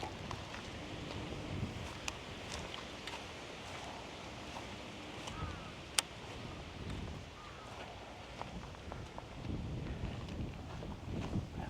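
Wind gusting across open water while out fishing from a small boat, a low, uneven rumble of buffeting microphone noise with faint rustling and one sharp knock midway.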